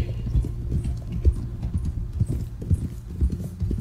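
Horse hooves clip-clop at an easy walking pace in Red Dead Redemption 2, a steady rhythm of soft, close thuds under a faint ambient evening backdrop.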